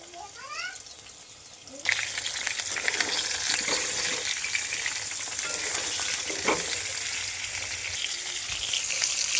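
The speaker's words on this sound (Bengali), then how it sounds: "এখন আলু ভাজবো, গ্যাসেতে আলু ভেজে নিচ্ছি।" Potatoes fry in a pan on a gas stove, a loud, steady sizzle starting abruptly and continuing close up, with a bird-like chirp and faint voice before it begins.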